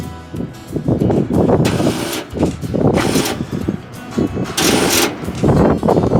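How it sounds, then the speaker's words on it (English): A 1972 Ford F250 engine cold-starts and revs in loud, rough bursts close by, surging and dropping several times. "Ladies and gentlemen, a cold start."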